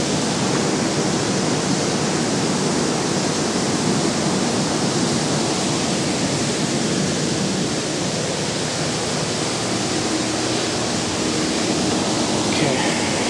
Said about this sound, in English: we have a waterfall next to us, so it's kind of noisy